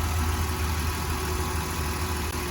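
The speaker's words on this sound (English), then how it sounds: "Seems to be running okay." A Chrysler Town and Country engine idles steadily at close range, a continuous low hum with faint vibration and no talking.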